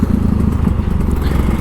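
A Kawasaki Ninja RR two-stroke motorcycle engine idling close by, a loud, dense, rapid buzzing putter with a steady pulsing rhythm and no pauses.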